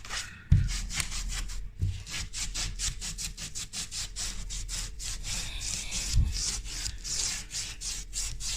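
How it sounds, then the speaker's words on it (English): A close, rhythmic back-and-forth rubbing of a cloth wiping down a surface, with repeated scrubbing strokes and a few thumps, no talking. "we're just going to give that a wipe down, get in"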